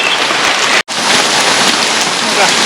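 Heavy rain pours down steadily as a broad, constant hiss, broken by a brief dropout near the start, with no talking heard.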